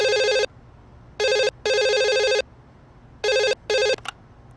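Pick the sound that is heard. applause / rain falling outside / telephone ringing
telephone ringing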